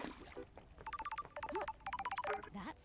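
A ringing phone in the video game Paradise Killer sounds as rapid electronic beeping pulses in repeated clusters, fairly prominent, with brief voice fragments between the bursts.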